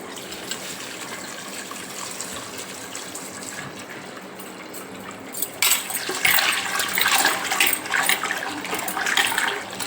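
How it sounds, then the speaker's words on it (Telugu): Raw chicken washed by hand in salted water, with sloshing and gushing water that starts moderate and grows louder and splashier partway through. There is no talking. "ఇట్లా మంచిగా ఒక 2-3 సార్లు కడిగి తీసుకోవాలి చికెన్."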